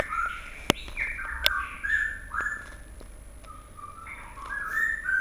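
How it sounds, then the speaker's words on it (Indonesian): Birds chirping and whistling around a home, with many short tweets and warbled calls overlapping at moderate distance, plus two sharp clicks in a quiet setting. "Memang di rumah saya ini lagi banyak sekali burung-burung."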